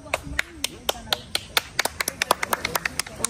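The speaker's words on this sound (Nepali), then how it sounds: "ताली बजाऊ" A small group of friends at an orchard mango party clapping hands to welcome a new arrival, sharp irregular claps that speed up and cluster, heard up close over faint outdoor background.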